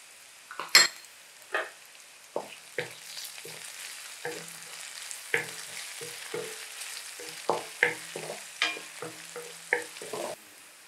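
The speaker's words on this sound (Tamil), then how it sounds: "பச்சை மிளகாய் சேர்த்துக்கிறேன்." Green chillies frying in a pan for a Schezwan chicken lollipop dish: a soft steady sizzle broken by repeated sharp ladle clinks and stirring knocks against the metal pan, nearby and without speech.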